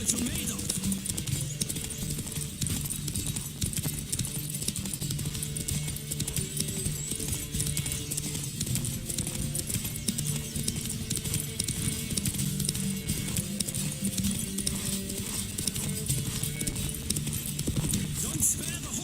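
Horse hooves pound in a steady galloping rhythm throughout a Witcher 3 horse race, loud and continuous under game music and ambient noise, with speech over it at times.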